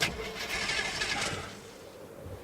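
A car engine cranks over and over with a strained, grinding rhythm but never catches, as a dead battery leaves it unable to start; the cranking sounds close and moderately loud.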